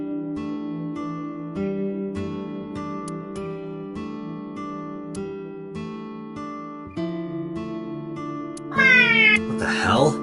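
A meow imitated by a character's voice in the video game AI: The Somnium Files, sounding over steady tonal background music, with a rising, wavering cry near the end.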